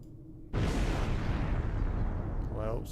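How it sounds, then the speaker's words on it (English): A sudden, loud explosion in the space combat video game Star Trek Online, with a heavy boom that sustains as a dense roar for over two seconds and a brief electronic tone near the end. "Well, something blew up."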